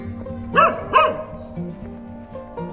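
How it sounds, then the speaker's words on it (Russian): A dog barks angrily twice in quick succession, close and fairly loud, then a few softer yips follow against a quiet background with no talk. "Собака злая какая-то"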